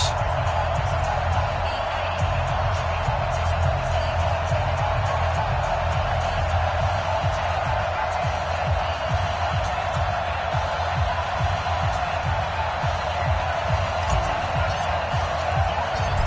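A steady stadium crowd roar from an EA Sports football video game, a Green Bay Packers versus Chicago Bears matchup, filling the background as a continuous wash with faint cheers, a commentator talking over it.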